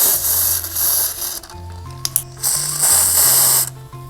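Several short bursts of China Glaze nail spray misted onto painted nails, a loud airy hiss that starts and stops in separate spurts, with faint clicks and low background hum between them.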